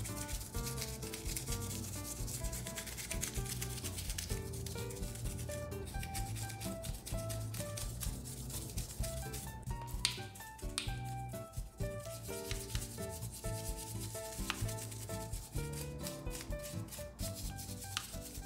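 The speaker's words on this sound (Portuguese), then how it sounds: "a gente vai lavar tudo isso com uma escova de dente e um pouquinho de shampoo que vai servir como detergente" A Barbie doll scrubbed with a toothbrush and shampoo, a close, continuous rhythmic rubbing and brushing that runs steadily throughout under quiet background music.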